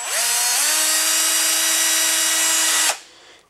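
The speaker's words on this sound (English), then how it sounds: "I bend the ends, and I insert it into a drill." A power drill spinning a homemade wire brush for cleaning Audi Q7 intake valves whines up quickly, holds a loud steady high-pitched tone for about three seconds, then cuts off and winds down.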